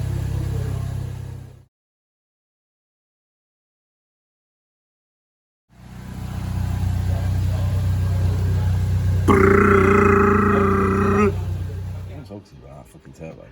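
A Mitsubishi Colt hybrid turbo engine runs on a dyno, a close, low mechanical drone that cuts out to silence, returns steady, then rises briefly into a tonal, revving note before easing off.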